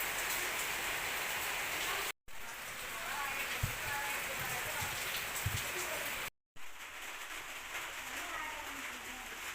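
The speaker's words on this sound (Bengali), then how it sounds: "জুড়ি আম পালাম বৃষ্টির ভিতর।" Steady rain pours down outdoors during mango picking, a dense continuous hiss broken by two brief cuts, with a few soft low thumps and people talking now and then.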